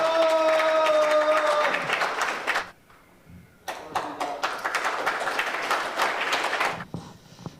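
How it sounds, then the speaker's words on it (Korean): An audience at a Korean economic forum applauds to welcome a speaker to the stage. A voice is heard at first, then a wash of crowd clapping, a brief lull, and a second burst of clapping. "큰 박수로 환영해 주십시오."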